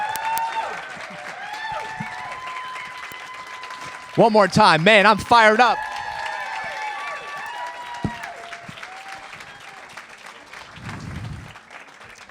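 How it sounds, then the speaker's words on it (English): Crowd applause and clapping for Dagan Migirditch at a live podcast event in Portsmouth, a steady clapping wash running under someone speaking excitedly, with a brief burst of cheering midway. "Clap it up for him."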